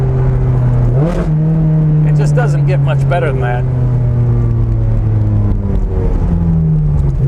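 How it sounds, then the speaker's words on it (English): A Ferrari Challenge Stradale engine drops through gears, its pitch falling and rising with blips between shifts, loud and close, with someone talking over it. "Listen to these downshifts."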